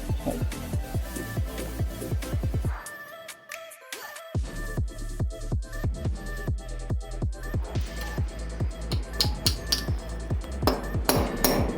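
Steady hammer blows drive concrete nails into a wall, sharp metallic strikes one after another with a brief pause partway through, then a quicker run of repeated hits.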